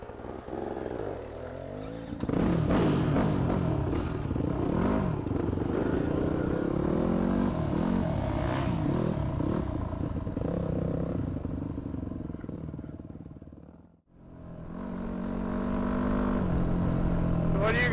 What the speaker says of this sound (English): And a little wheelie for you.